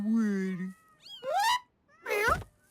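Three exaggerated meows come from a cartoon cat in Teen Titans Go, the first long and level, the next rising, the last short and strained, each loud and close with gaps between.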